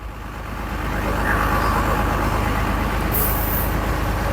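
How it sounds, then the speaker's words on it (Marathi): A fully loaded truck runs at an excavation site where a machine digs and fills it, with a continuous engine rumble and a faint airy hiss rising briefly near the end. "हे मशीनचं खोदकाम चालू आहे आणि भरणं चालू आहे हे गाडी फुल लोडेड झाली"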